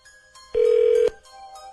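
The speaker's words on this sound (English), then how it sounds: "When I picked up, it was still ringing." Telephone ringing, a single loud steady electronic tone lasting about half a second, with faint quieter tones before and after.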